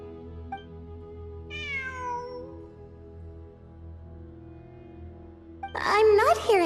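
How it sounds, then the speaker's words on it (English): A cat meows in the Genshin Impact video game, with a few rising, harmonic cries at moderate volume over a steady low game ambience and a brighter burst of sound near the end. "It really is a cat."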